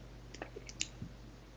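A few separate computer mouse clicks, faint and close, sound while working in Power BI to clean data. Each is a short sharp tick over a steady low electrical hum, with no talking.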